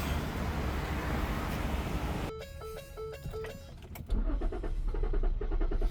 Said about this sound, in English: It starts hard sometimes.